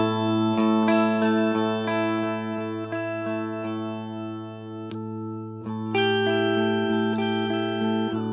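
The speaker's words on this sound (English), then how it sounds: "If I do the same thing with the +2 octaves, it sounds like this." A Walrus Audio Luminary quad octave pedal adds a +2 octave voice over clean electric guitar notes, producing a glassy, organ-like shimmer. A steady series of picked notes and chords rings loud and sustained with no talking.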